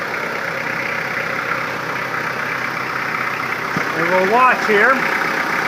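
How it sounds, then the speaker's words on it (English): A Kubota L4240HST-3 compact tractor engine starts and settles into a steady idle, a constant mechanical drone throughout with a rising rev near the end while someone speaks briefly over it. "he'll start the tractor."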